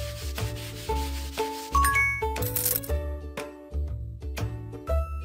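A cartoonish wiping and rubbing effect from a kids' preschool math video game plays alone, with rapid scraping strokes mixed with bright chiming tones and rising musical notes.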